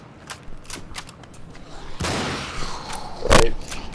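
Gunfire in the video game Cryostasis, a few sharp shots amid game ambience, the loudest blast near the end of the short stretch, with faint talk in the background.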